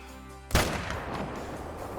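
A single loud rifle shot at a mule deer buck about 200 yards out in the hunting video game Call of the Wild, a sharp blast followed by a long rolling echo that fades slowly.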